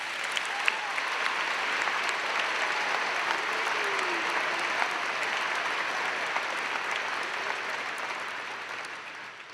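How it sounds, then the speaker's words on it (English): A large audience at a university spring commencement ceremony applauds in a steady, sustained roar of clapping that fades slightly at the end, with faint voices and whistles scattered through it. "Can we give them one more round of applause"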